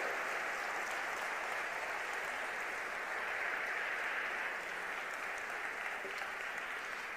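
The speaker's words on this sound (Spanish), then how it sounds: "Fuerte el aplauso." A church congregation applauds during a sermon, steady even clapping heard from some distance and fairly faint, continuing unbroken.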